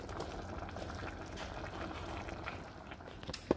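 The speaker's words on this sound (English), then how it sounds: "you saw what it looks like while it's simmering away" Littleneck clams simmering in sauce in a pan, a steady close bubbling and gentle hiss throughout, with a couple of brief louder pops near the end.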